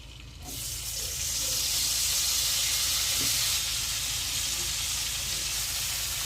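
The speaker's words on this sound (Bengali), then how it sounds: "এবার ছোট সাইজ করে পিস করে রাখা ব্রকলিগুলো ভাজার জন্য দিয়ে দিচ্ছি" Small broccoli pieces go into a pan of already-fried spices and hit the hot oil with a sudden loud sizzle, then a steady close hissing fry continues without talk.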